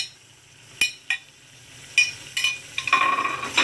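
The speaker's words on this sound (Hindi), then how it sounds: "तो मिक्स कर देना।" Dum ka qeema minced meat being stirred with ground roasted cumin, dry coriander, garam masala and black pepper, close scraping and clinks of a spoon against the pot, growing busier toward the end, with no voices.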